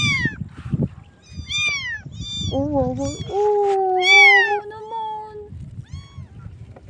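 A stray cat found on a road meows repeatedly at close range, with a long drawn-out cry in the middle, while people talk and murmur around it throughout.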